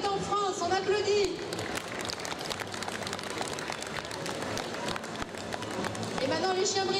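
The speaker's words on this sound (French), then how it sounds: "On est en France, on applaudit." Steady applause at a dog show in France, a dense wash of hands with voices mixed in, fairly loud throughout.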